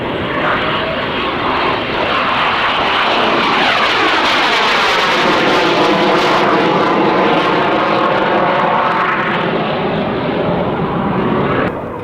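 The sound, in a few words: aircraft with undercarriage down for touch and go landing at airshow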